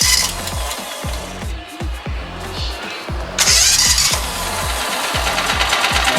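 A Kawasaki Mule 550 utility vehicle engine cranks in steady rhythmic pulses from its newly installed starter, then catches and settles into a loud, continuous idle, with no talk over it.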